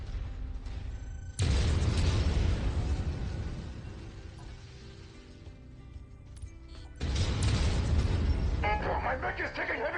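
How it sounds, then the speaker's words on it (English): Heavy explosions hammering a mech in MechWarrior 5, two loud booming bursts of blast noise separated by a quieter stretch of rumbling battle sound. "My mech is taking heavy hits!"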